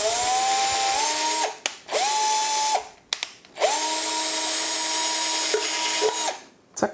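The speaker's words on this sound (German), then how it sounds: "Jetzt als erstes nehme ich aber, wie gesagt, meine Bohrmaschine." A power drill bores a hole during a BMW M2 Competition differential cooler upgrade, with a steady whine in three bursts that spin up, hold, then stop, close and clear with no talk.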